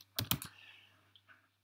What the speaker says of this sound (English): you start off typing the area that you have been to